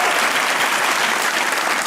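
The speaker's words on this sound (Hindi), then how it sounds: "तालियां बजाओ यार।" A studio audience on a television comedy talk show applauds steadily, a thick, even wash of clapping from many hands throughout.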